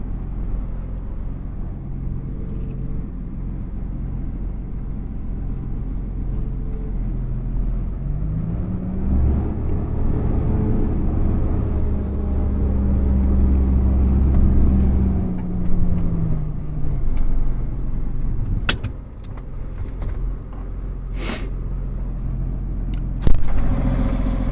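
A Mercedes G63 AMG drives off, its engine a continuous deep rumble that swells through the middle and settles again, with a few sharp clicks near the end.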